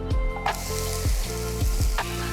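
Celery, carrot and onion frying in oil over medium-high heat, a steady close sizzle with several sharp stirring scrapes spaced through it, no talk.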